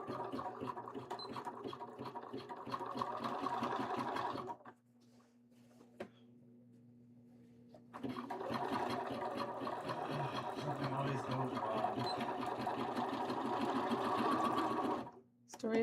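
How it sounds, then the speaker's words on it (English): Sewing machine stitching a quick seam joining two fabric pieces for a cosplay costume, a steady whirring run of about four seconds, a pause, then a longer continuous burst, stopping briefly near the end. "Let me sew these two pieces together really, really quickly."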